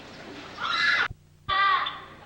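Pet Indonesian sparrows, black birds with red beaks and white faces, kept in Kuala Lumpur, give two loud, close, harsh chattering calls separated by a short pause, with a faint click in the gap and no talk.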